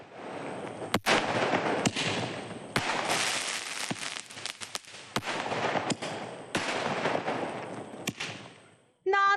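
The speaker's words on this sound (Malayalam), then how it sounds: "കത്തിച്ചു വിട്ടാൽ ചുവപ്പ് നിറത്തിൽ മുപ്പത് ഷോട്ടുകളോടെ നോൺ സ്റ്റോപ്പ് കാഴ്ചയൊരുക്കുന്നതാണ്" A 30-shot red firework cake bursts in a rapid string of shots one after another, sharp cracks and booms with crackling between them, loud and continuous for several seconds.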